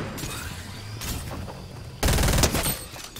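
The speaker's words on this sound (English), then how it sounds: "Someone's shooting me." Fortnite gunfire, a few quick shots near the start followed by a louder, denser burst of fire around the middle, heard alone without talk.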